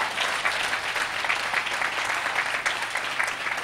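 A church congregation applauds the Holy Spirit in sustained, dense applause that sounds like a large crowd clapping steadily throughout, with faint voices mixed in.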